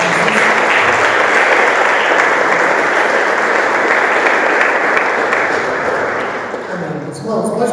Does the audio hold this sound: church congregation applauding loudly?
yes